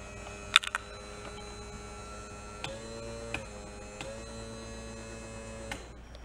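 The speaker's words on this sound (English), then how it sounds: "Is that our bilge pump?" The bilge pump on a 1990 bass boat runs with a steady electric hum and motor whine, broken by a few sharp clicks and small knocks, close by with no voices.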